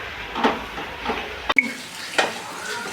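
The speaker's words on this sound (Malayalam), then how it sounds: "ഇളക്കി കൊടുക്കാം" Chopped onions, green chillies and salt sizzle in a hot pan as a spoon stirs them, scraping and clinking against the pan in a few distinct strokes over a steady frying hiss.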